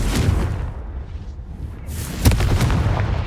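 Confringo fire spell explosion in the Hogwarts Legacy video game: a sustained, loud rumbling blast that swells, briefly eases, then erupts again with a sharp boom near the end, alone without speech.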